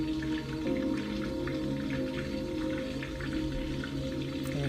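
Soft patter of rain drips and taps steadily within calm Zen relaxation music, sustained tones droning underneath while scattered droplets sound close and gentle.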